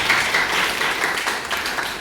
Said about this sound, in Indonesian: Kalau mau tepuk tangan buat Tuhan Yesus